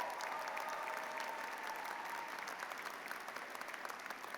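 Warm, continuous applause from a commencement audience at a college of media arts and design, an even crackle of many hands clapping throughout with no voices over it.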